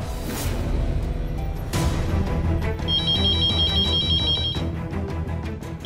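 A landline telephone rings early in the morning indoors, repeated electronic ring bursts with a sustained high tone in the later part, clear and fairly loud with no talking.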